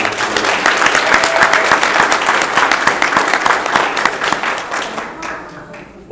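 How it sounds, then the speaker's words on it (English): A graduation audience claps in a dense, loud round of applause with a few sharper individual claps standing out, sustained for around five seconds before fading. "Let's give probation a hand clap, you guys."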